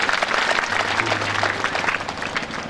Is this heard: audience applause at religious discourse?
yes